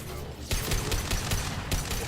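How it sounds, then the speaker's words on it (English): Rapid gunfire in the video game Mass Effect 2, a dense, loud burst of repeated shots with sharp cracks hammering almost continuously after a brief quieter lead-in. "Hostile fire. Taking cover."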